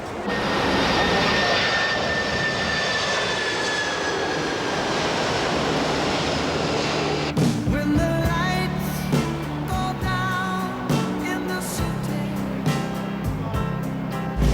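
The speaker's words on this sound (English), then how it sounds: "The city lies directly beneath the flight paths of inbound planes." An inbound airplane passes low overhead in Kowloon City, Hong Kong, with a loud, sustained jet roar for about seven seconds. It then gives way to rhythmic music.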